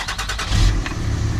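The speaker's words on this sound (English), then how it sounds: "Start the truck." Cummins diesel race truck engine cranking and firing up, a loud, close low rumble that swells into a steady run over roughly a second and a half, with no voices.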